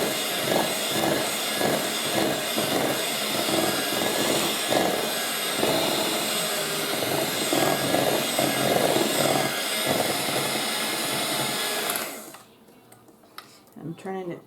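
An electric mixer whirs steadily at medium speed while mixing mini bundt cupcake batter, a dense buzzing drone with rhythmic beater scraping against the bowl, loud and close, then cutting off abruptly near the end.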